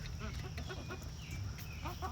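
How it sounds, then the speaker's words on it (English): Hungry chickens clucking and squawking at feeding time, many birds close together over a low rumbling background, with no clear talking. "Hangry chickens."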